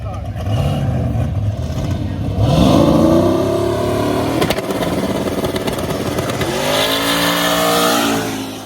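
A drag race car on a fast pass roars loud and close, its engine revving up in several rising sweeps as it shifts gears, with a crowd and announcer audible underneath.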